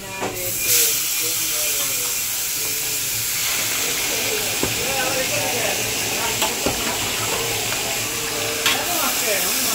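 Pond tilapia frying in very hot oil, a loud continuous hiss and crackle up close, with people talking over it.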